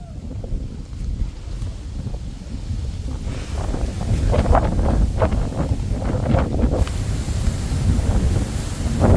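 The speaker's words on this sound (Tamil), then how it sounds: "நல்லா காற்று அடிக்குது. உச்சிக்கு போக போக காற்று அதிகமாக இருக்குது." Strong wind blows near the top of Rangamalai hill, roaring and buffeting the microphone. The gusts build steadily and stay loud and rough, with faint voices underneath.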